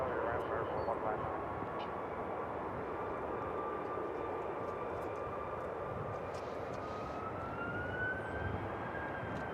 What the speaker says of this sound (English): A heavy aircraft is next on the docket, coming in from Roma. It will be American Airlines Flight 239, a 787-9 Dreamliner.